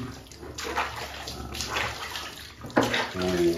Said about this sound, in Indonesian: Kita siram lagi.